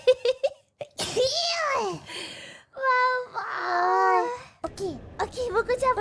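A high, strained, squealing voice breaks into a burst that fits a sneeze building up, with long wavering vocal sounds between shorter outbursts, close and loud during playful talk.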